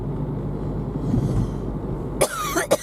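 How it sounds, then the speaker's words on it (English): Low background rumble continues for a couple of seconds before two quick, close coughs break through at the end. "Now my cough is starting up."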